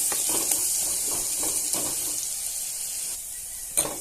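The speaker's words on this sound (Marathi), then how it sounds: "मिरची आपण बारीक करून घ्यायची ती पण थोडीशी आपण तळून घेणार आहोत" Finely chopped green chillies fry in oil for a village-style harbhara bhaji, a soft, continuous sizzle with faint stirring scrapes, and a brief sharp clink near the end.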